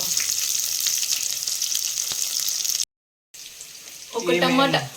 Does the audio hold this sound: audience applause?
no